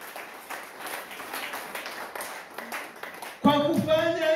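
A church congregation applauds during a sermon with a dense wash of clapping, and a burst of keyboard music cuts in near the end.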